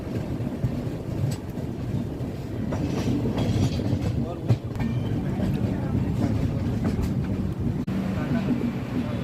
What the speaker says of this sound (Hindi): तो इस वक्त हमारी ट्रेन कल्याण जंक्शन से निकल चुकी है